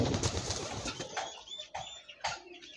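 Pigeons coo softly nearby, with a few flutters of wings and short bird calls, no talking.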